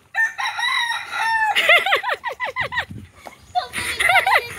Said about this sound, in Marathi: त्याने टाइमिंगला कुकडू केला